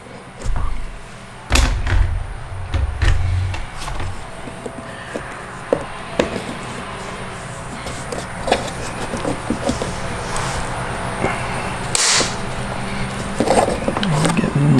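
Plastic tabs on a BMW F30 door panel are pried loose, giving a few sharp snaps and thuds with scattered clicks and knocks, close by, between quieter handling noise.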